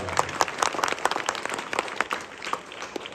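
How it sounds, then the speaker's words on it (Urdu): Crowd applause at a public gathering in a village: dense, steady clapping from many hands, moderately loud and sustained throughout without a break. "زوردار تالیاں آپ ایک بار ان کے لیے"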